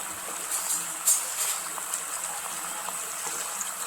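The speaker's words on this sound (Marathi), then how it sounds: "आता याला उकळी आली तर गॅस कमी केला" Water for biscuit halwa boils in a pan on a gas stove, a steady close bubbling hiss with small pops and splutters throughout, no voices over it.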